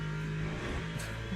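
A race car in Le Mans Ultimate roars past at close range, its engine holding a steady, loud mid-pitched tone over a brief moment.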